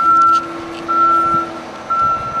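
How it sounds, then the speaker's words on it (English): A truck backs up nearby, its loud backup alarm sounding three steady beeps spaced about a second apart over a low rumbling engine. "Sorry for that truck."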